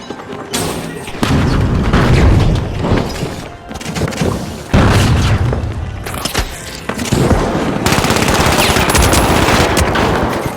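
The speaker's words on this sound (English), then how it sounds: "Flashbang out." Loud explosions and heavy automatic gunfire in the destructible-arena shooter The Finals, with a flashbang thrown: repeated booming blasts and dense rattling fire, several sharp onsets over about ten seconds.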